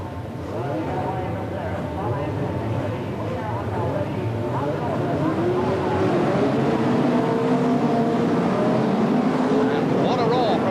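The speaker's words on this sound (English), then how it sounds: "And what a roar from those engines as they all hurtle away from the start line" A pack of 1600cc hot rod race cars roars away from the start line at the 1991 World Hot Rod Championship final. The engine noise swells into a loud, continuous rising drone with a voice over it.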